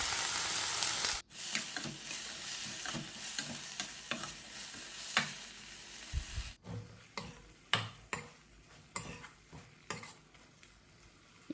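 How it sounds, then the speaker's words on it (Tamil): Ripe tomatoes sauté in a pan for chutney, a soft sizzle running under repeated scraping stirs of a spoon, with occasional sharp clinks against the pan, close and without talk. "இது நல்லா மசிஞ்சு வர வரைக்கும் வதக்கிக்கலாம்."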